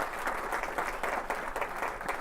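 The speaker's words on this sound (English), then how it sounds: "Give a round of applause for the mayor" An audience at a celebration gives the mayor a round of applause, a steady, fairly distant clatter of many hands clapping.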